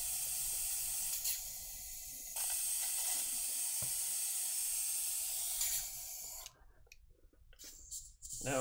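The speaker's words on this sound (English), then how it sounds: "I think I'm done with the airbrush, so I'm going to turn that off so it doesn't bug us anymore" A hobby airbrush spraying paint onto a miniature, giving a steady close hiss that runs for several seconds with brief breaks, then cuts off into a quieter stretch of short bursts.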